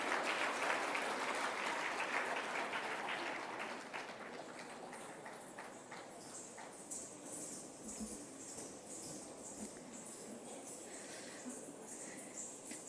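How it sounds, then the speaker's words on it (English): A round of applause from a conference audience, strong at first then settling into lighter, scattered clapping that continues faintly to the end. "Can we have a loud round of applause for them"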